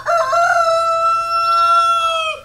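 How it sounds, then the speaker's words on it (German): A rooster crows one long, loud, close cock-a-doodle-doo with a steady drawn-out tone that cuts off sharply at the end, alone with no talk. "Marthas Hahn bringt auch jeden Morgen die Winde aus der Dunkelheit des Schlafs"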